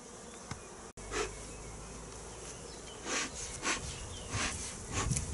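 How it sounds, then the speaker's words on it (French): Many honeybees hum and drone close by around a hive entrance in a dense, steady buzz, with individual bees swelling louder as they pass near. "il y a beaucoup d'abeilles qui rentrent et qui sortent"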